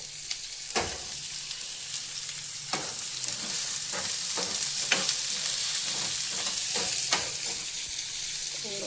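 Thick-cut onions and cumin seeds frying in a pan, a steady close sizzle broken by several sharp stirring scrapes and clinks.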